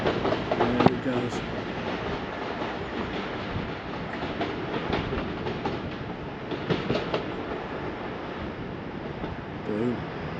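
A train rolls through Pontefract station with a steady rumble and clickety-clack of wagons, loud and continuous for the whole stretch, with a brief voice early on.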